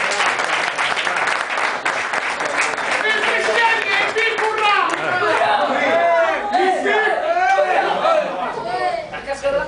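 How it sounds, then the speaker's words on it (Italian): Applause at a football club's convivial dinner honoring the club president, steady clapping throughout with loud chatter and voices talking over it, close and lively indoors. "Presidente, un applauso al Presidente! Un applauso al Presidente!"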